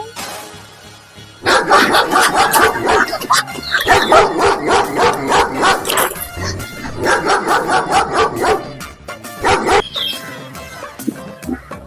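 Rapid bursts of barking from a dog, fairly close and loud, coming in quick repeated runs with brief pauses between them.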